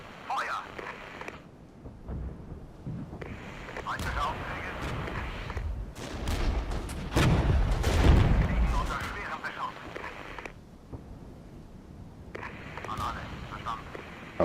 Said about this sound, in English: Right, there it is, artillery DPICM.